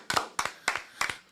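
Four quick, even hand claps sound close by in a live charity radiothon studio, each a sharp double-edged clap, with no cheering voices.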